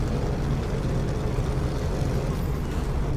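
A car engine runs steadily as the car pulls up beside the dispenser at a petrol pump, with a continuous low rumble and no talking.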